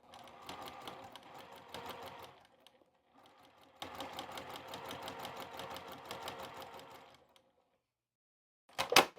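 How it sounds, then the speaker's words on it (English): A sewing machine stitches quilt fabric for an uneven nine patch block in fast, even mechanical bursts close by, pauses briefly, runs again, then falls silent before a short loud clatter at the end. "start on the very edge of my fabric and sew all the way to this edge"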